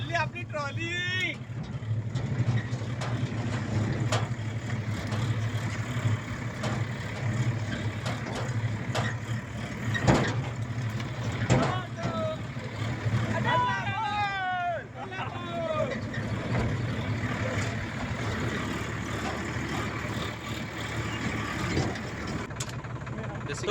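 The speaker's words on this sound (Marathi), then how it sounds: "चालली आपली ट्रॉली." A farm tractor hauls a loaded trolley, its steady low engine drone running throughout with people talking over it and occasional clatter.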